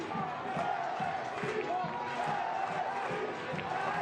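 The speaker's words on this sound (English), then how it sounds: "Crowd willing them on to one last chance" Soccer stadium crowd in the closing minutes of a Lexington SC versus Orange County SC match, a steady roar of cheering and urging voices sustained throughout, with commentary-like speech woven under it.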